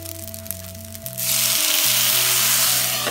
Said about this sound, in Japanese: 料理酒をちょっと麺の上にかけます